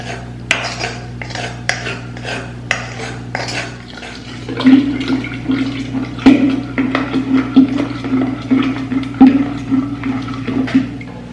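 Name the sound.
pouring grape and sugar mixture for homemade wine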